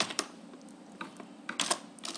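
Computer keyboard keys typed in quick irregular bursts while entering C code for a Fibonacci series program, close and fairly soft, with short pauses between clusters of keystrokes.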